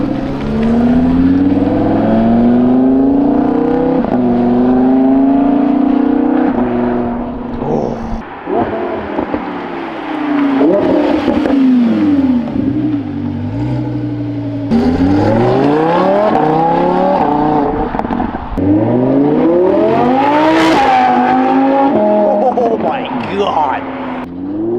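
A loud sports car exhaust, heard from outside, revs hard and climbs through the gears, dipping briefly at shifts before roaring up again, with voices talking over it.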